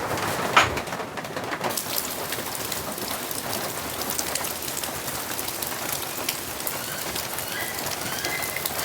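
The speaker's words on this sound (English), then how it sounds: "Yeah, the rain's really picking up now." Heavy rain pours steadily onto a rustic cabin as a dense, even hiss, with a brief louder patter early on and a bird faintly calling.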